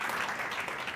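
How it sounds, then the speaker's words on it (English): Audience applause at a live real estate presentation, a steady wash of many hands clapping at moderate volume throughout, with no speech over it. "That's a round of applause, right?"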